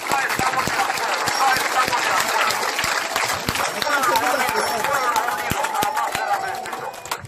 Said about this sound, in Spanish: Fuerte aplauso, hermano.